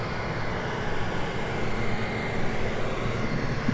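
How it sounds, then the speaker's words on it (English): A 7140 tractor rolls past on a rural road during hay season, its engine a steady, fairly loud broadband rumble that holds constant throughout with no voices. "Got a nice 7140 driving by right now."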